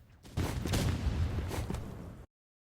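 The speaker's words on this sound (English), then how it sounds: "Okay, so you hear the 3 explosions." A dense, booming wash of blasts and rumbling explosions in a Roblox game, loud and continuous for about two seconds before cutting off abruptly.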